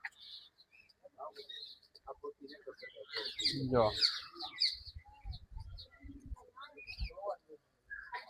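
Birds chirp and ducks call at a zoo, bursts of tweets and squawks near and far, with people talking over them.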